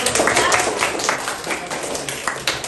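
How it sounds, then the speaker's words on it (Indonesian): Classroom applause after a group presentation in an Islamic cultural history lesson: loud, close clapping from a class of students, dense and continuous, gradually thinning slightly toward the end. "Ya, beri tepuk."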